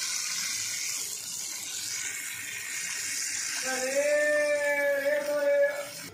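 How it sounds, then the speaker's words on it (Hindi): Water pours into a pot of beef being cooked for korma, a steady broadband rush of liquid that grows fuller and louder toward the end as the pot fills, with no talking. "इसमें पानी शामिल कर देंगे ताकि अच्छे तरीके से गोश्त हमारा गल सके"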